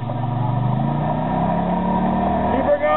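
A Polaris ATV engine revs and pulls along a club trail ride, a steady mid-pitched drone that rises in pitch toward the end, heard close under excited shouting from riders.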